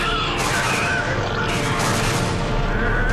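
A DNA bomb detonates in the shooter game Bulletstorm, a loud, sustained roaring blast with a crackling, fiery rumble that stays dense and steady for about three seconds, with no talk.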